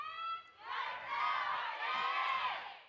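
Crowd of DRX fans at a VCT Pacific Valorant esports match cheering, a sustained roaring swell of many voices with whoops, slightly distant and filling the whole stretch.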